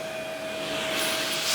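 A nearly 40-year-old Rainbow D3a canister vacuum cleaner runs steadily close by, giving a loud, continuous whine with a sustained tone that swells slightly toward the end, with no talking.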